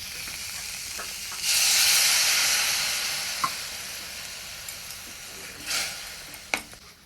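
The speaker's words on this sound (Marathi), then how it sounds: "आता ह्यात थोडंसं मी पाणी ओतणार आहे" Water poured into a hot pan of oats with turmeric and roasted peanuts, bursting into a loud sizzling hiss that slowly fades, with a second brief surge and a few clinks of a spoon.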